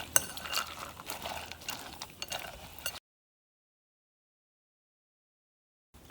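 Dried fruits and nuts soaked in apple juice for a Kerala Christmas plum cake are stirred in a bowl, with close scraping and light clinks for about three seconds before the sound stops.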